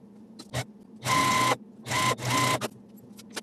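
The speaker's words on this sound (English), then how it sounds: "now we're going to sew these 2 halves together" A sewing machine stitching two quilt block halves together runs in short bursts, one brief whir then two longer runs with a pause between, close and clear with light clicks in the gaps.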